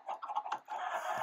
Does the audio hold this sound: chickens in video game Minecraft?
yes